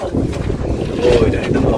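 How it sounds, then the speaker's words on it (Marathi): Cool wind blows steadily across the exposed cliff-edge point of Pratapgad fort, a continuous broadband rush buffeting the microphone without pause. "सुंदर थंड वारा आहे"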